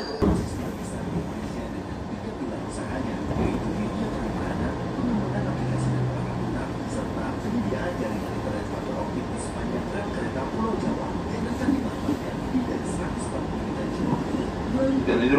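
Steady low rumble and rattle inside a moving KRL electric commuter train (JR 205 series) between Manggarai and Cikarang, Indonesia, a continuous hum with faint clicks, and muffled voices nearby.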